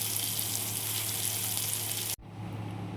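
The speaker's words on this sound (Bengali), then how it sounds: "আলুগুলোকে লাল লাল করে ভেজে নেব, তারপর আলু পটলটাকে ভালো করে ভেজে নেব।" Potatoes and pointed gourd frying in hot oil in a karai give a steady, loud sizzle that runs unbroken, then cuts off abruptly near the end and drops to a quieter, softer crackle.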